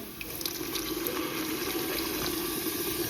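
Water pours in a steady, unbroken stream into a pot of chicken curry, a constant splashing hiss lasting throughout.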